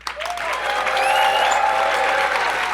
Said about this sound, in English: Let me hear a round of applause for this.